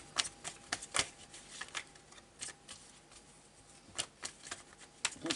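Oracle cards shuffled for a tarot-style reading, heard as soft, close, irregular riffling and slapping bursts scattered through a quiet room, with no voices.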